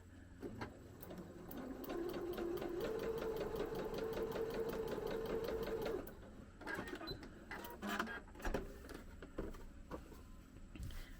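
A sewing machine stitches scrap pieces for a quilted journal cover, running in a steady whirring burst for about four seconds before stopping. Quieter fabric handling and clicks follow, all close and alone.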